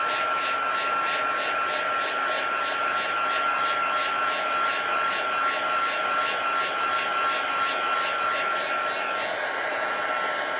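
A hair dryer blows steadily on a piece of artwork, a loud, even whirring hiss with a constant whine that runs unbroken from start to finish, with no other sounds.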